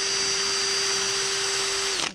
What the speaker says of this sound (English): Just taking a wire wheel to this area that I'm going to hit with the welder.